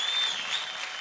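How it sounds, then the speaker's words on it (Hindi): Studio audience at a kids' dance competition show bursts into brief, brisk applause, a dense clatter of clapping without voices. "जोरदार ताली हो जाए जीत के लिए"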